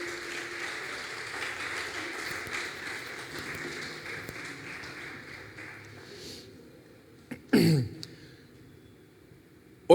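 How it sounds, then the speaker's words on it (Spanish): Applause from a church congregation during a Sunday service, a broad wash of clapping that slowly fades over several seconds, followed by a brief sharp knock and then near quiet. "Dale un fuerte aplauso a nuestro Dios."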